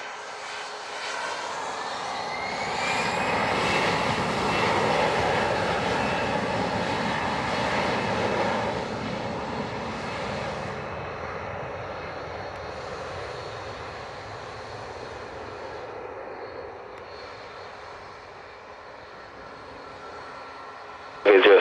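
American 3309 airliner taking off from runway 07 at Montego Bay, Jamaica, its engines a loud, sustained roar that swells and then slowly recedes into the distance over some twenty seconds.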